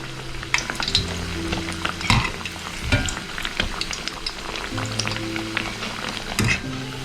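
Parippu vada, Kerala thattukada-style crispy lentil fritters, deep-frying in hot oil, giving a steady close sizzle with bubbling crackle and a few clinks of a slotted spoon.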